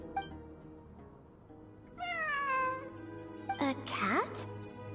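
A cat meows in the Genshin Impact video game: two drawn-out, wavering meows in quick succession, close and clear over a low background hum.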